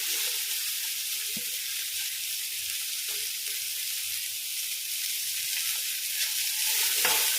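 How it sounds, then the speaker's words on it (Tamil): Four medium sliced onions sautéing with green chillies in a pan for white pulao; a soft, even sizzle with occasional light spatula scrapes and no talking. "வெங்காயம் லைட்டாக ப்ரௌன் ஆகிற அளவுக்கு வதக்கி விட்டுக்கணுங்க"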